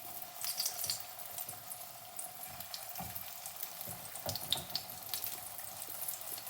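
Sweet potato cutlets shallow frying in oil over a medium flame, a faint, steady bubbling sizzle with small crackles and occasional soft clinks, quiet and continuous without talk.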